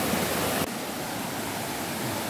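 A waterfall in a Korean mountain valley stream roars as a dense, steady broadband rush, loud and close, with no voices over it.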